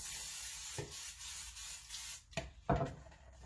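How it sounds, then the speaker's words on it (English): Soft hissing spray of water misting a container for sourdough dough against a steady background rustle, with a few brief louder bursts toward the end, quiet and close. "I'm going to spray this container"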